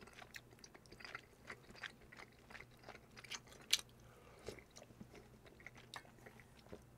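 Close, quiet bites and moist chewing of Korean rice cake and dumpling soup, soft crunchy mouth sounds coming in irregular bursts with no talking.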